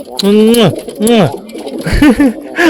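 Pet pigeons cooing and calling together around a feeding spot, several rising and falling coos close by, with a person talking in between.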